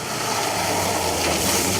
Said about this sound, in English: another of the Imprezas comes through